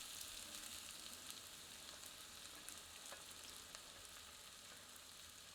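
Chopped onions fry over medium heat in a pan, giving a steady, close sizzle and crackle that holds even throughout with no talking.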